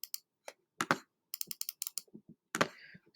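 Computer keyboard typing, a quick run of sharp, close key clicks in short irregular bursts, loud and alone with no talking.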